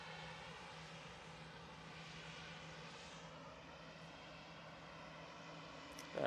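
An airliner climbs out of Manchester Airport bound for Malaga, its engines a steady, distant, faint roar that holds evenly, ending in a brief louder burst.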